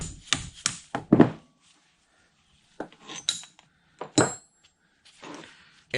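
Socket head cap screws come out of a milling vise under restoration: scattered metallic clinks and thunks of tools and screws against the metal, in short bursts separated by quiet pauses, close by.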